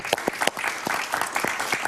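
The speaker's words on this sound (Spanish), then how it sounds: "Aplausos para Pedro, por favor." Studio audience on a Spanish-language television talk show breaks into applause, a dense patter of many hands clapping at moderate volume throughout, with no speech on top.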